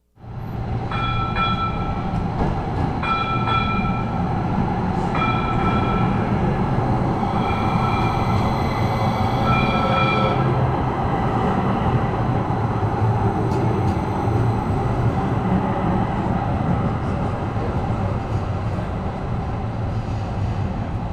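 A light rail train rumbles past nearby in a loud, steady roar, with its horn sounding several short blasts early on before the rolling noise continues alone.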